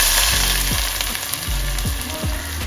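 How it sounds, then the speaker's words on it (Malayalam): Chopped onion frying in hot ghee in a pan, a loud continuous sizzle broken by several scraping stirs of a spoon. "നെയ്യൊന്ന് ചൂടായി വന്നാൽ കട്ട് ചെയ്ത് വെച്ച ഉള്ളിയും കൂടി ചേർത്ത് കൊടുക്കാം"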